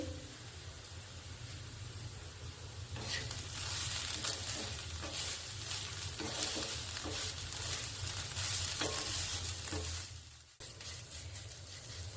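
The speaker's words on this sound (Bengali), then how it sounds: "মূলোটা হালকা একটুখানি ফ্রাই হয়ে গেছে" Grated radish sizzles and fries steadily in a hot pan while being stirred, a dense continuous hiss that swells louder partway through with faint scraping, no talking.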